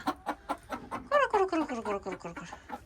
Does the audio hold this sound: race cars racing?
no